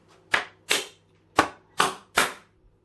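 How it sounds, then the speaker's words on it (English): Plastic film lid on a microwave bento box being pierced, five sharp snapping pops in an uneven sequence, close and crisp, with silence between each. "Pierce film."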